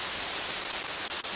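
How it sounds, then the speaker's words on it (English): Rain falling in the village-building video game Kingdoms and Castles, a steady broadband hiss at low volume throughout, with a couple of faint ticks near the end. "Some rain right off the bat."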